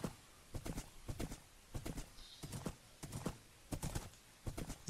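Horse hooves clip-clop in a steady walking rhythm in a video game, with an occasional whinny, fairly quiet and alone.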